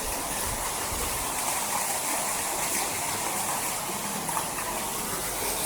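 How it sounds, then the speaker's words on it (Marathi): Monsoon water rushes over a waterfall and through small streams at Nhavankond in the Konkan, a loud, even roar of gushing water that continues without a break and without voices. "हे बघा हा पण धबधबा बघा मस्त धबधबा इकडे"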